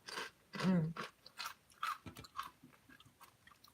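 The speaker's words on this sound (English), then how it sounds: "Sorry, I'm munching away." A person chews food close to the mic, with crunchy bites and soft mouth sounds interleaved with quiet speech.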